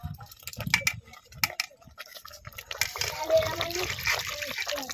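Water pours into a pot of boiling village-style fena rice, a splashing gush that builds in the second half, with a voice talking over the earlier part and some clinks of utensils.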